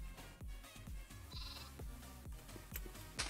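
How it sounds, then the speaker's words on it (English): Sheep in the Minecraft video game bleat over and over in short, steady calls, fairly loud and close, with no talk. "there's some sheep I can murder for free dinner"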